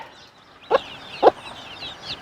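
A gurk hen, a mother with chicks scratching among leaves, gives two short, close clucks about half a second apart. A fainter call follows at the end over a quiet background.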